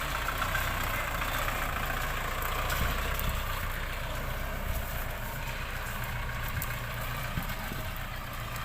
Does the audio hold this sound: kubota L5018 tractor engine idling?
yes